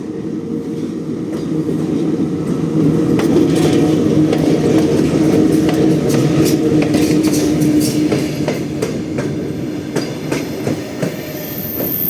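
A long Dnipro–Truskavets passenger train pulls into Truskavets station, a loud, close, steady rumble of rolling wagons with rhythmic wheel clatter and faint squeals, heard alone.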